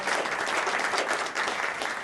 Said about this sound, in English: How about we all clap for the school teachers, everybody?